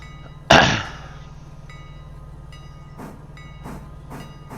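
A train hauling a coal car rolls along the track in the railroad game Railroader. A sharp metallic clank rings out over a low, steady rumble, followed by fainter knocks and clacks.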